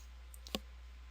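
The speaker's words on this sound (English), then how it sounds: "we can go ahead and click save on the ad" One short, soft mouse click lands on a save button, a faint single tick over low steady hum.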